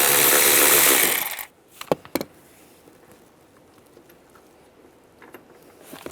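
A bolt being removed from the center console of a 2007-2013 Chevy Silverado: a loud burst of power-tool whirring for over a second, then a few sharp metallic clinks and small clatters of parts, followed by quiet handling.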